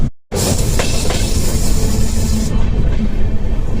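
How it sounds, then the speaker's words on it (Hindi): A Shatabdi Express train heading toward Tundla makes a loud, close, continuous rumble of wheels on rail with steady clatter after a brief silent gap at the start. "और अपनी शताब्दी एक्सप्रेस धीरे धीरे टुंडला की तरफ बढ़ती हुई"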